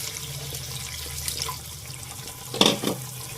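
Stored mutton stock being poured into a karahi pot of yogurt and meat, a short splashing pour near the end over a steady low kitchen hum.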